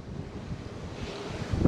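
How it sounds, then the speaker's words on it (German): Wind buffets a microphone outdoors beside a Honda CRF 250L motorcycle, a steady low rumbling roar that grows stronger near the end, with no speech. "es ist so windig"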